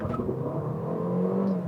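A 2022 Mercedes-Benz CLA 250 launches and accelerates hard, its engine note a steady rising whir heard loud and close from inside the car, with no voices over it.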